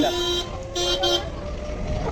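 Car horn tooting near a zoo road in Delhi, a couple of short honks over traffic noise while a voice talks nearby.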